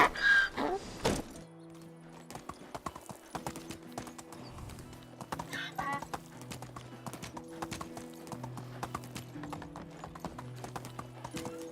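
Donkey hooves clip-clop steadily in the Medieval Dynasty game, a continuous rhythmic stream of hoof steps over a low, sustained musical backdrop, with a sharper burst of sound at the very start.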